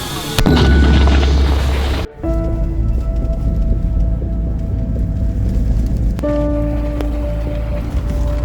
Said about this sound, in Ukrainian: Міномет!